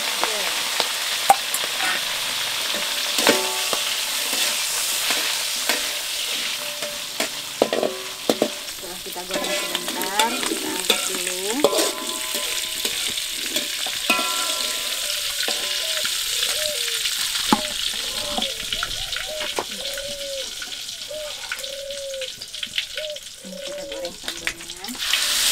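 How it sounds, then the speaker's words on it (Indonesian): Salted squid frying in a pan, a steady loud sizzle and crackle of hot oil with occasional stirring scrapes, continuing throughout without talk. "Sekarang kita goreng dulu sebentar ikan asin cuminya."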